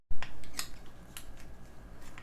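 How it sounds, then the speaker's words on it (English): Metal shelf clip on a heavy-duty steel storage rack clicking into place during assembly, a few sharp metallic clicks and taps close by against a low background rumble, no talking. "if you notice there was a clicking sound, so this thing is in place and it won't move now"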